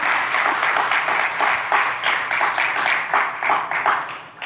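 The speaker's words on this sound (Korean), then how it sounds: "먼저 여러분 박수 한번 하겠습니다." Audience applauding at a school assembly, a steady, dense patter of many hands clapping throughout, fairly loud and close with no talk over it.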